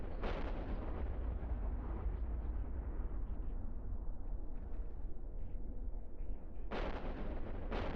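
Smart bombs detonating in the EVE Online video game, a dense continuous rumble of blasts running the full length, with sharper bursts flaring near the start and again near the end.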